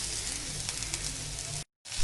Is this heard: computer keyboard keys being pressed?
no